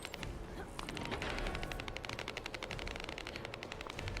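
Rapid automatic gunfire from The First Descendant looter-shooter, a dense stream of sharp shots running steadily through the whole stretch with no pauses, mixed in with game sound effects.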